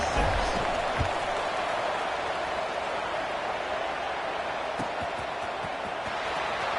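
Stadium crowd at a Miami vs LSU college football game roars steadily as the ball is kicked off, a dense, sustained wash of cheering with a few scattered claps and thumps, loud and unbroken throughout.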